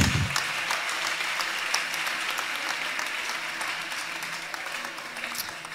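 Congregation at a church service clapping and cheering, sustained dense applause that starts loud and slowly tapers, with a voice briefly audible at the very start.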